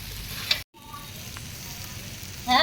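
Chow mein stir-frying in a pan, with a continuous hissing sizzle broken by a brief gap and ending in a louder burst as it is tossed. Faint background voices are present.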